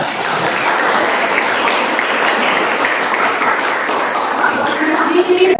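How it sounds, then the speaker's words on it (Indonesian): A classroom of students applauds together during a lesson, dense steady clapping that stays loud and close throughout, with a voice faintly present near the end. "Tepuk tangan dulu untuk kita semua."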